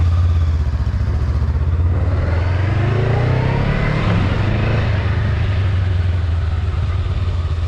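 A brand-new 2021 Honda Rebel 500 motorcycle runs on a parking-lot test ride, its engine a steady, loud low rumble that swells slightly mid-ride, with no talking.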